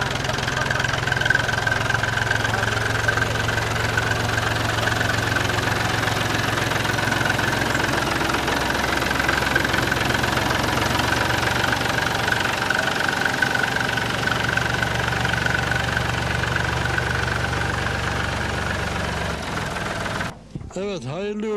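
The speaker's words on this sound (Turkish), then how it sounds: "Çok amaçlı bir traktörün var." A multi-purpose tractor's engine runs steadily up close, a loud, even, knocking diesel drone that holds for the whole stretch, with people talking over it and a few clunks at the very end.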